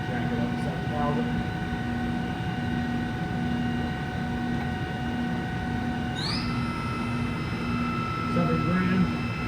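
An Okuma Genos M560-V vertical machining center spindle ramps from 5,000 to 7,000 RPM, a steady whine whose pitch rises and then holds over a constant mechanical hum, with someone talking over it.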